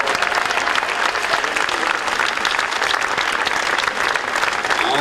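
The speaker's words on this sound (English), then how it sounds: "let's give him an even bigger round of applause" A large crowd at the Cooperstown Hall of Fame ceremony gives Phil Rizzuto loud, sustained applause, an unbroken roar of clapping that holds at full strength for the whole stretch.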